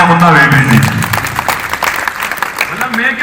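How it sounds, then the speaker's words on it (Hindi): Audience clapping breaks out at a Hindi poetry gathering, a kavi sammelan, uneven and mid-loud, with someone speaking over it at the start and the end. "एक बार जोरदार तालियां मुन्ना बेबी जी।"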